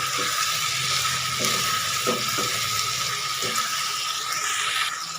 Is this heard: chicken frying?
yes